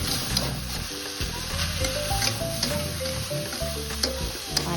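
Pancit canton noodles stirred and sizzling in a pan, with steady close frying hiss and scraping stir strokes recurring through the clip.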